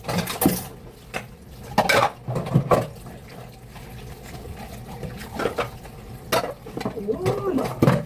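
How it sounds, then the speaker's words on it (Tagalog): Dishes being washed by hand, with intermittent loud clinks and clatters of pots and cutlery, splashing water in between and quiet background sounds throughout. "Maingay talaga ako pag ako naghugas."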